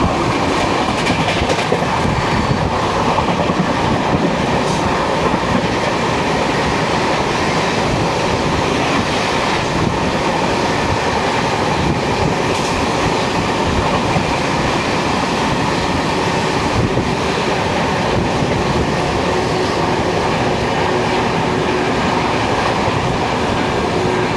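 The 12284 Duronto Express runs on rails, heard from inside an AC 3-Tier coach as a steady loud rumble with rhythmic clickety-clack of wheels over joints and occasional faint squeals.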